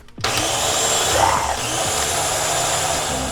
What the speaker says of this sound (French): Voilà, on va mixer tout ça.